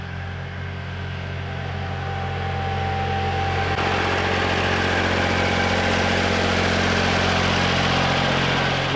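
A tractor engine idles steadily with a low, even rumble and faint whine, holding a constant level throughout with no talking.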